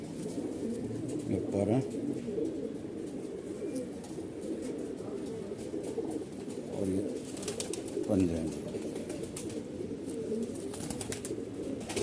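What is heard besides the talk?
Malwai Punjabi and Madrasi pigeons cooing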